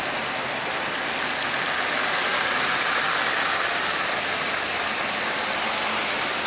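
A Marx 1666 toy train locomotive with a freshly freed motor runs on a rail, giving a steady, close whirring hiss with no pauses and no voices.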